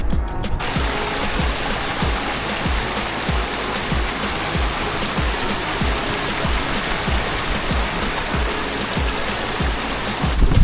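Mountain waterfalls and streams on an alpine hike give a steady, dense rushing roar of falling water that continues evenly throughout, loud and close with no voices.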